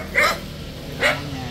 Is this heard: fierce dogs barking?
yes